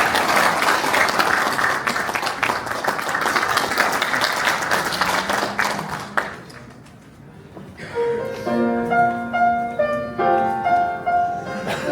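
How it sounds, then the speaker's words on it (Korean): Applause from a congregation at a national security prayer rally welcomes a singer, loud, dense clapping for about six seconds that fades as a piano or keyboard accompaniment begins playing a slow hymn-like melody. "예, 우리 박수로 한번 맞이해 주시면"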